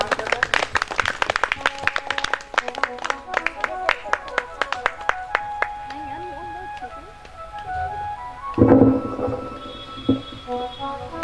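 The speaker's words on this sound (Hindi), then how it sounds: "सभी लोग तालियों से स्वागत करें, सम्मान करें।" An audience at a Hindu religious discourse on the Bhagavat Katha claps together in a burst of applause that fades out, followed by a brief swell of crowd noise.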